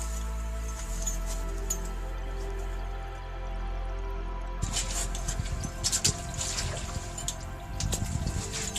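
Water drips and trickles in an underground gallery, a low hum giving way to irregular close splashes and drops in the second half.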